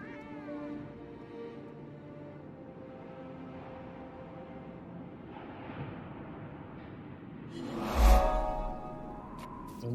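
A cat meows repeatedly, with a louder drawn-out caterwaul near the end over a soft background hum.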